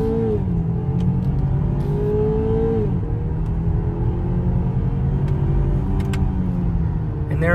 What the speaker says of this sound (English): we're gonna go ahead and switch into sport mode, and we are going to get moving here